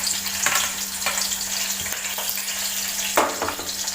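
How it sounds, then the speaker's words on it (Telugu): Green chilies frying in hot oil with onions, a steady close sizzle under a constant low hum, broken by a few sharp spatula stirs and pops. "ఆయిల్ హీట్ అయిన తర్వాత దీనికి మిర్చిని వేసుకోవాలి."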